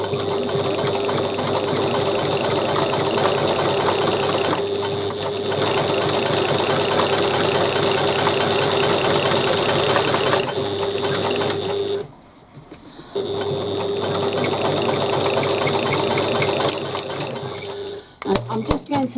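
A sewing machine stitches a quarter-inch seam through foam-lined bag fabric, a loud, dense mechanical chatter running steadily, with a brief pause near the middle and a stop and restart near the end.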